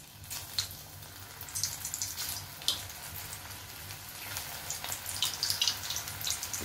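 Okra pakoras fry in hot oil, a soft continuous bubbling hiss with light spattering crackles, close by but fairly quiet.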